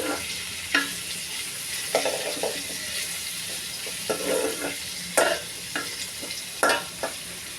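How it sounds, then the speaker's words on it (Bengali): Cauliflower stir-frying in a pan for a fish curry, a steady soft sizzle broken by repeated scraping and stirring strokes of a spatula at irregular intervals, close and moderately loud, with no talking. "ফুলকপি রান্না করতেছি"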